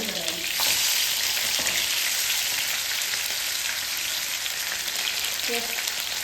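Food frying in a pan gives a steady, loud broadband sizzle throughout, with a few faint clinks of stirring and no voices.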